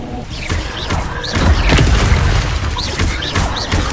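A Bombarda explosion spell fires in Hogwarts Legacy during a loud, busy spell fight. Deep booms and crashes layer over a constant rumble, with magical whistles and whooshes scattered throughout.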